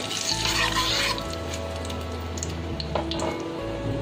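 Bay leaves and dried red chillies sizzle in hot oil on low flame for prawn pulao, a steady, moderately quiet crackling hiss with faint pops throughout.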